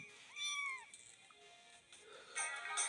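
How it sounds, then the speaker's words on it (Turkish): A cat in a video game gives a clear, close meow early on, followed by fainter game sounds and tonal effects, with no talking over it. "Kedi."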